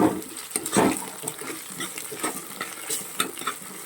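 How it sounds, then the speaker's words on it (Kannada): Vegetable rice bath masala with ginger garlic paste fries in a pan, giving a soft crackle under irregular scraping stir strokes close by. "ಇದು ಹಸಿ ವಾಸನೆ ಹೋಗೋ ತನಕ ಚೆನ್ನಾಗಿ ಇದನ್ನು ಫ್ರೈ ಮಾಡ್ಕೋಬೇಕು"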